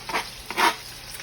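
Minced fresh garlic sizzles as it hits hot oil, a short soft hiss with a couple of brief surges, close and quiet.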